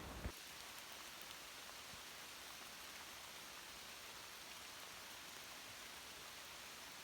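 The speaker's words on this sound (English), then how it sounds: "It is raining like crazy." Dense, steady downpour of heavy rain, a constant hiss of drops hitting surfaces with no voices.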